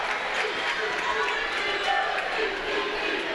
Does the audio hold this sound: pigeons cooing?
no